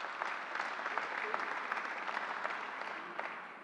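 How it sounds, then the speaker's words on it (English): Audience at a community college event gives a steady round of applause, moderately distant and even, with scattered sharper claps throughout. "Let's give him a round of applause."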